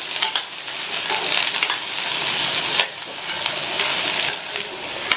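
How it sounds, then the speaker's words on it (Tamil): Green beans with turmeric stir-frying in oil over a high flame, a steady bright sizzle broken by scraping stirs and a few sharper crackles, close and continuous with no talking. "ஹை ஃப்ளேமில் வச்சு 2-3 நிமிஷத்துக்கு இந்த பீன்ஸை நல்லா எண்ணெயிலேயே வதக்கி விட்டுக்கோங்க"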